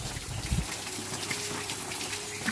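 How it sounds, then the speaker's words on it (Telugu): Water gushes up in a steady, rushing spray from a broken, leaking pipe while the pump motor runs, a continuous close wash of noise with no talking. "మోటార్ ఆన్ చేస్తే అలా పైకి కొట్టేస్తున్నాయి నీళ్ళు."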